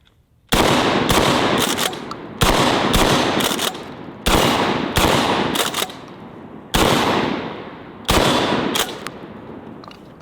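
A DP-12 double-barrel pump shotgun fires at steel targets outdoors, loud blasts in quick pairs with pump-action clacks between, about nine shots in rhythmic bursts, each trailing off in echo.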